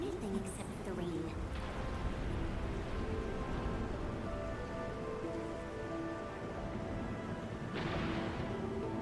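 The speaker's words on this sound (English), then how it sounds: "It's raining harder. I can't hear anything except for the rain." Heavy rain pours steadily in the video game Arknights Endfield, a dense continuous wash with low rumbling underneath and a brief burst of sharper noise near the end.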